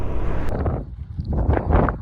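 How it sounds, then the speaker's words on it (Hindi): Strong wind at Pangong Lake buffets the microphone in a steady, rough low roar with gusty swells and no talking. "हवा चल रही है बहुत तेज"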